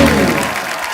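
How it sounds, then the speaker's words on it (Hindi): Audience applause on the set of The Kapil Sharma Show, a loud, dense wash of clapping from a studio crowd that fills the whole second without a break. "जोरदार तालियां"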